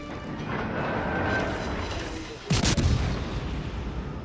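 Warship main guns fire AP shells in World of Warships Legends, a single loud deep blast rising over a steady battle hum, then rumbling away.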